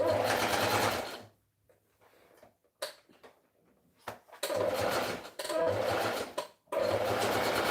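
A sewing machine stitches a pair of pants close beside the zipper, running in three loud bursts of whirring separated by quiet pauses with a few faint clicks and handling noises.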